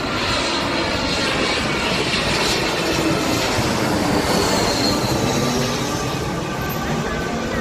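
An airplane flying in to land at Singapore airport gives off a loud, close, continuous engine roar that stays strong and steady throughout.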